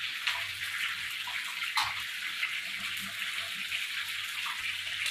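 Stuffed capsicum pakoras fry in hot oil in a kadhai, giving a steady, close hissing sizzle with small crackles and pops throughout.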